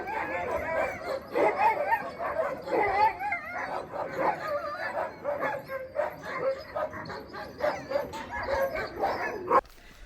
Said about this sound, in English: I got to play with the dogs.